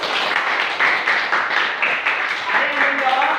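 Classroom applause from students after a group answer, a steady dense patter of many hands lasting several seconds, with voices chattering over it.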